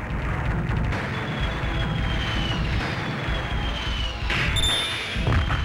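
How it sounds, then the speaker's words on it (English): Giant monsters smashing buildings in the arcade fighting game King of the Monsters: dense, loud crashing and thudding debris over a constant roar, with a rising whine and a sharper impact near the end. "This game is all about crushing buildings and pounding the opposing monster into oblivion."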